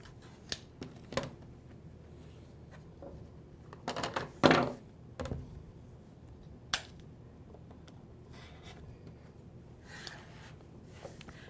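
Scissors snip through quilt fabric trimmed along a ruler for a log cabin block, a scattering of quiet, crisp cuts with a brief flurry in the middle, close and alone in a hushed room.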